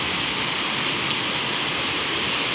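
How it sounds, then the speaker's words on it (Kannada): Heavy rain pours down steadily as a dense, even hiss of drops beating on surfaces, close and continuous, with no talking. "ನೋಡಿ ಎಷ್ಟೊಂದು ಮಳೆ ಬರ್ತಾಯಿದೆ."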